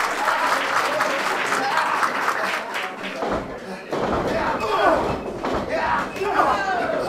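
A wrestling crowd at an independent pro wrestling show in Greensboro, North Carolina, cheering and clapping in a steady, loud roar with shouts and thuds mixed in, and voices over the top.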